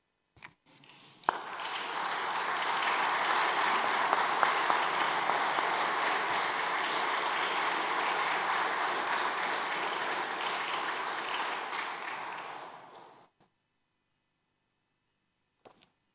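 A congregation at a funeral mass claps steadily and fairly loudly for about twelve seconds. The applause stays even throughout, then stops abruptly into silence.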